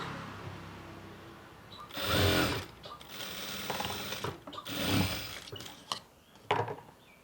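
A sewing machine stitches a skirt pocket in a couple of loud whirring runs, each a few seconds long, broken by softer handling noises and short mechanical clicks, close by with no speech.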